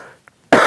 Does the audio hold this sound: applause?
no